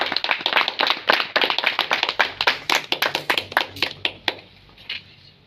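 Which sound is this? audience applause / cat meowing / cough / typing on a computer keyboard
audience applause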